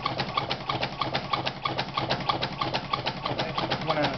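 A battery-operated magnet motor runs steadily, giving a fast, even mechanical pulsing rhythm with regular ticking beats at close range and fairly loud, with no talk over it.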